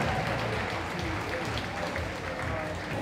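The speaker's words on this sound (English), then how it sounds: "We give another round of applause to Dramatik Fanatic" Audience applause at a Brooklyn fashion show for a designer's collection, a dense, steady wash of clapping with crowd murmur underneath, continuous throughout.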